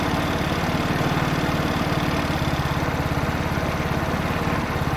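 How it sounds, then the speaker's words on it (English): A 50cc petrol scooter engine idles steadily up close with a continuous low, even rhythmic putter while its carburettor mixture is being adjusted richer, running on alone for the whole stretch without any voices. "now you see that the engine is about to die down"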